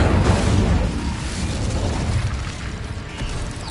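An Incendio fire spell is cast in Hogwarts Legacy, a loud, dense burst of roaring flame that starts heavy and booming, then settles into a sustained crackling rush that fades only slightly.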